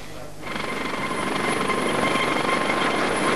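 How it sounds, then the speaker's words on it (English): An air ambulance helicopter lifts off from a London hospital rooftop, its steady rotor and turbine roar swelling after a brief quieter start and then holding loud and continuous. "the helicopter is off again"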